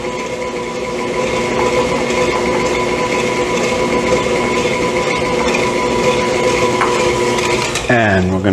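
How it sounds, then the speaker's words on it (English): Steady stirring of a cooled apple cider mixture with cream in a bowl, a continuous scraping swish that runs unbroken for several seconds and ends with a brief clatter of the utensil. "we'll get our cooled apple cider mixture in with our cream and give it a good stir"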